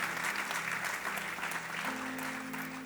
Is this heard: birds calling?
no